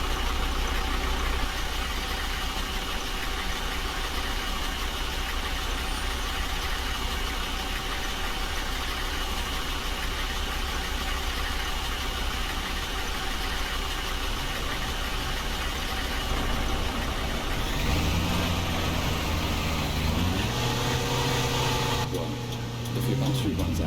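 Road traffic engines in the Fernbus bus simulator rumble and idle steadily for a long stretch, low and continuous, before an engine note shifts pitch near the end as a vehicle moves off.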